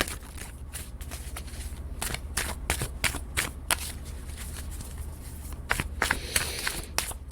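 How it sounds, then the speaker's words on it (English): Repeated crisp riffling and slapping of a tarot card deck, close up, in bursts of shuffling with brief pauses between them; no voices. "I'm going to shuffle one more time"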